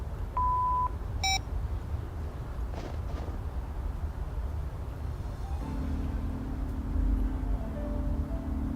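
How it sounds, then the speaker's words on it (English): Telephone dialing in The Blackwell Epiphany game: a short steady tone, then a brief bright beep, followed by several seconds of low ambient hum. "Let me try calling the phone here"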